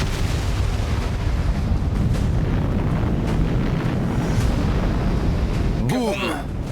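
A large explosion sending up a fireball, recorded on a phone, comes through as a sustained loud roaring rumble, with a brief sharp burst near the end.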